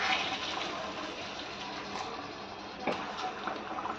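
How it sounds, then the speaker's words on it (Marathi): Hot water pours into a pan of Maharashtrian chicken curry with a continuous, moderately quiet gushing rush, a brief splash near the end and no talking. "त्याच्यामध्ये मी गरम पाणी घालणार आहे"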